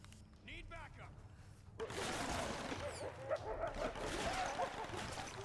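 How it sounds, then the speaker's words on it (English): Dogs bark and yip in the dark in the Tomb Raider video game, a dense burst of barking kicking in after a quiet opening and continuing over game ambience. "oh god, I hear the dogs"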